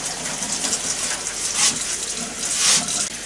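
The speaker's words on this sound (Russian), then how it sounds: "Сейчас я воду прогоню." Water runs from a tap in a small utility cabin with newly fitted plumbing and a water heater, a steady hissing gush that lasts throughout and briefly swells twice.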